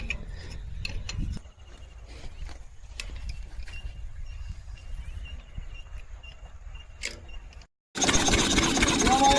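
An engine on a farm runs with a steady mechanical clatter and ticking in a workshop, fairly close, with brief bursts of louder noise at the start and end and people talking nearby.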